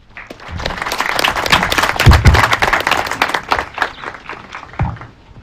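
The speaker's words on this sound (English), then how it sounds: "let us welcome our keynote speaker by a clap of hands," At a university graduation ceremony, an audience claps warmly to welcome the keynote speaker, a dense, sustained wash of many hands that holds for several seconds.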